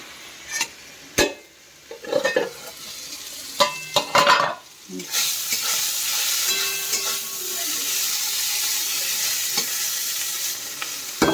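Bitter gourd with salt and turmeric fries in hot oil, starting with a few sharp clatters of pan and utensil, then settling into a steady loud sizzle and crackle that continues, with no talking.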